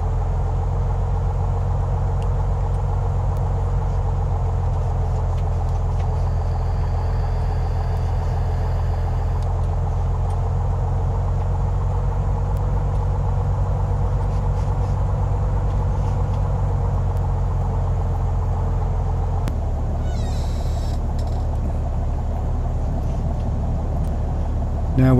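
Small plane taxiing to the runway in Microsoft Flight Simulator 2020, a steady loud low engine drone that shifts pitch near the end, with no talk.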